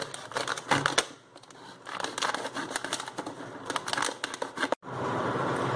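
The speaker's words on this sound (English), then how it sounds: "you take a knife or a sharp blade and just cut out the lower part of the bottle" A knife or sharp blade cuts the bottom off a plastic bottle, giving a close run of crisp clicks, scrapes and crinkles in uneven bursts, with a short pause near the end.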